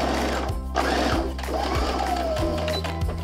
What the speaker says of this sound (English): We're going to shut the waistband together and we're gonna sew right across.